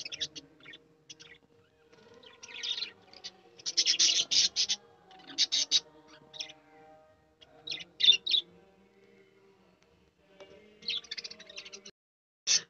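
Pet budgerigars kept alongside finches chirp in short, bright bursts of twittering spread across the stretch, some calls close and fairly loud, others softer, with quiet gaps between the flurries.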